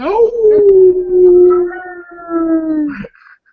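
A human voice imitates a wolf howl: one long, near, loud tone that starts with a rising swoop, holds steady and slowly falls for about three seconds before cutting off.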